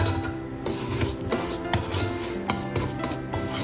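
Gingerbread batter being mixed by hand in a bowl, a steady rasping scrape of utensil against the bowl sides with periodic stronger strokes, close and continuous with no talking.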